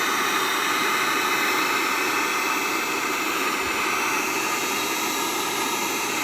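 A steady, loud whooshing hiss of hot air blows without pause while a Mandalorian helmet's T visor is heated to soften its glue, close up with no talk.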